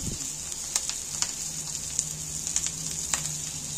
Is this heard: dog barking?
no